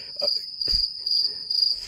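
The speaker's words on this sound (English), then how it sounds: "Crickets." Crickets chirp in a steady high-pitched trill that runs throughout, with a few soft low thumps underneath and no talking.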